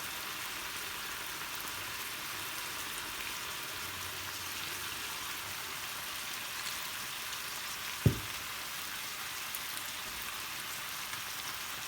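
A frying pan sizzles steadily as dark soy sauce goes in for a noodle dish with hidden vegetables. The hiss is even and constant, with a single sharp knock partway through.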